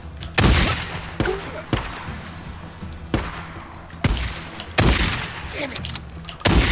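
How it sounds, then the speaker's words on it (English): Shotgun blasts in the video game Days Gone: loud, booming shots at irregular intervals of about a second, each with a heavy low thump and a noisy tail, with a voice shouting between them. "It's time to try my shotgun."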